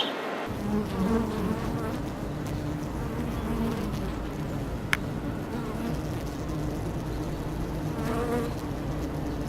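A dense, steady buzzing of many honey bees at the hive fills the clip, continuous and close, with faint background noise and a brief click midway.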